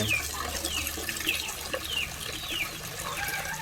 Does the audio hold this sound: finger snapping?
no